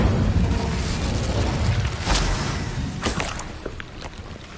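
In Hogwarts Legacy, an Incendio fire spell goes off with a dense, roaring whoosh of flame and a few sharp crackling bursts that fade slightly toward the end. The sound is loud and close.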